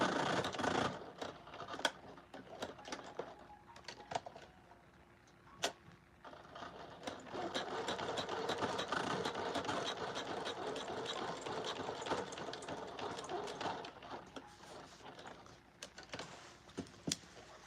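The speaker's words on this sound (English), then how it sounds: "it's sewing the bottom of the sleeve" A sewing machine stitches the bottom of a garment sleeve closed in a boutique, running in fast rattling bursts with brief pauses and sharp clicks between, close and fairly quiet, with no talking.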